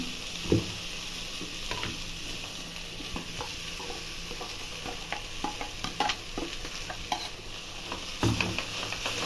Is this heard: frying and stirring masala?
yes